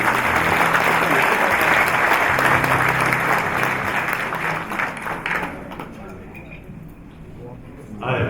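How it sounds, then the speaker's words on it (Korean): Audience at an inauguration ceremony breaking into loud, sustained applause that thins and trails off toward the end, with a few voices heard beneath it. "여러분 큰 박수를 부탁드리겠습니다"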